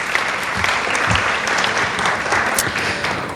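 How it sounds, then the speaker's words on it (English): A crowd at a raspberry festival senior coronation breaks into a great round of applause, dense and steady throughout at close range, with no voices standing out. "give them a great big round of applause"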